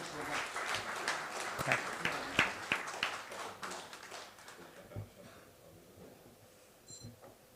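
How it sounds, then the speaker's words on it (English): Scattered applause from a conference audience at an economic conclave, moderately faint and patchy, with claps tapering off over several seconds amid background murmur. "We can have a good round of applause for them, please."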